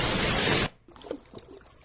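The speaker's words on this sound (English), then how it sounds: "That sounds like rain." Rain from a subliminal audio track makes a dense, steady hiss for about two-thirds of a second and then cuts off abruptly. Faint background sounds follow.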